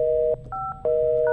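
Telephone keypad dialing in the video game Luto, a few clean electronic tones in quick succession, each a distinct short beep separated by brief gaps.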